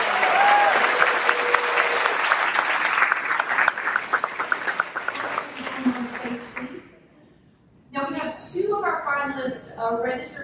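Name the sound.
audience applause for award finalists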